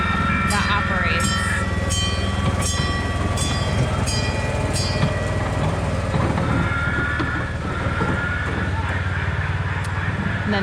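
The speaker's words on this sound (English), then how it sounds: "So they still have a train, the Bushkill Express, that operates." The Bushkill Express, a small amusement park train, runs nearby with a steady rumbling rolling sound and faint rhythmic wheel clatter, while voices talk over it throughout.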